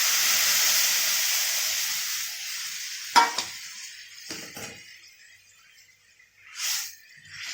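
A loud sizzling hiss fades out as cooked dal is poured into a hot tempering pan, followed by a few clinks and brief bursts of sizzle.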